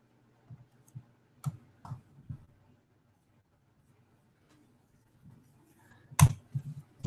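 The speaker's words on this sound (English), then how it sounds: "I'm going to type this in for you." Scattered soft clicks of typing on a computer keyboard in a quiet room, a few isolated taps, then a pause and a quicker closing cluster of keystrokes.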